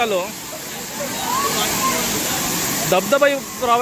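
Steady broadband rush of a waterfall in Devgad taluka, loud and continuous, with a few brief tourist voices rising near the end.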